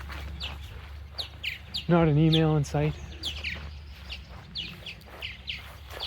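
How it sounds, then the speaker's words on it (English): Birds chirp and tweet repeatedly in a quiet outdoor setting, short bright calls scattered throughout, with a person speaking briefly over them. "Birds everywhere."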